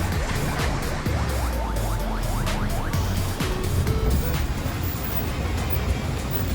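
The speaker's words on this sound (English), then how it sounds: "so this is the combi, okay, which is just like a big minivan you can see behind me" Ride inside a combi, a big shared minivan used as cheap transport into town on Cozumel, Mexico: loud continuous engine and road rumble with gear-shift tones and rattles, close and enveloping.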